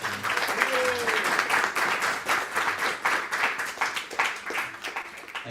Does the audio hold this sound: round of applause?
yes